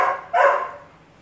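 A single short, loud bark from a dog during a training session, close by, with faint background noise.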